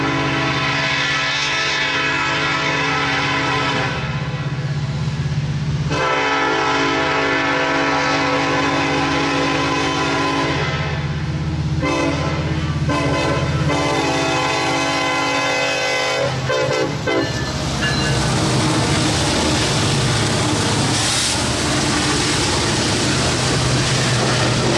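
A southbound manifest freight train rolls past in Front Royal, Virginia, its horn sounding in long loud blasts over a steady heavy rumble of cars that carries on throughout.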